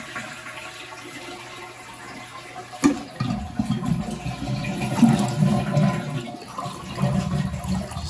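A toilet is flushed and its tank drains, a sharp lever clunk followed by a loud gushing, swirling rush of water that gurgles and trails off into sloshing and trickling, close up, no speech.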